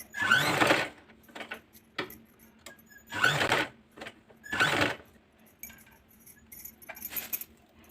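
A sewing machine stitching a frog back neck design on fabric, running in three loud short bursts with quieter pauses between as the presser foot is lifted and lowered, close and alone with no talk.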